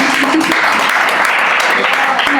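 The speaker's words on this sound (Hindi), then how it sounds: "एक बार जोरदार तालियां बजाएं" A mushaira audience breaks into loud, sustained applause after a ghazal recitation, a dense wash of clapping close by with faint voices mixed in.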